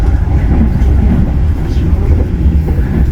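A Majapahit economy passenger train rumbles along on its rails with a loud, steady low roar and faint rhythmic clatter, heard up close from inside.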